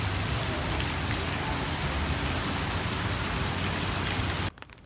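Heavy rain pours steadily during a storm in New Orleans, a dense, loud hiss of drops close by that cuts off abruptly near the end.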